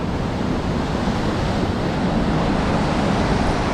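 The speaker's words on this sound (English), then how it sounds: "here we go in the rough sea right now" Rough sea surf and strong wind off an Australian coast early in the morning, a continuous loud roar of crashing waves and buffeting gusts with no pauses or voices.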